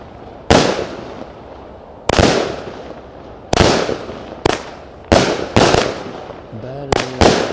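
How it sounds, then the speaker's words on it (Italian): An Extreme Fonti Pirotecnica 36-shot 20 mm firework cake fires a string of sharp, loud blasts at uneven intervals, each bang trailing off into a short crackle, with a brief voice heard near the end. "Extreme Fonti Pirotecnica 36 colpi 20 mm il calibro di questa bellezza."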